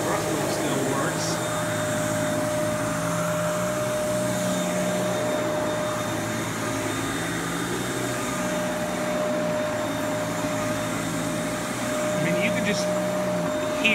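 A Kenmore Elite vacuum cleaner runs steadily at close range, its motor giving a loud, continuous whine and hum while it picks up dirt, with faint crackles of debris now and then.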